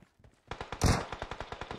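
Rapid gunfire from a battle royale video game: a steady string of sharp, evenly spaced shots with one louder, heavier blast near the middle, loud and close with no talk.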